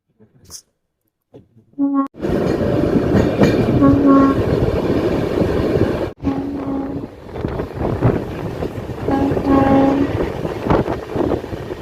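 Darjeeling Mail passenger train rumbles and rattles along the tracks on a foggy run between Sealdah and NJP, a loud continuous clatter heard from inside a general coach after a brief quiet start, with a horn-like tone sounding intermittently.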